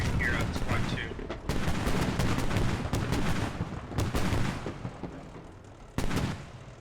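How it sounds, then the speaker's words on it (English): Mortars and BMD armored vehicles fire in a combat video game set in an urban battle around Fallujah, with sustained rattling gunfire and sharp booming blasts at intervals, loud and close, with no talking over it. "Mortars now popping off as well as the BMD."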